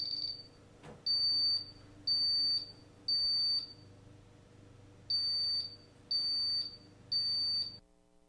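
A Paradox alarm system keypad sounds its fire alarm as a series of seven sharp, evenly spaced electronic beeps, each lasting nearly a second, with short gaps between them, clear and alone over a faint background hum.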